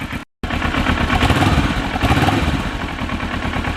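A Kawasaki Ninja 650R motorcycle engine idles up close in a steady, rumbling, slightly uneven run, broken by a brief dropout near the start, with no talking.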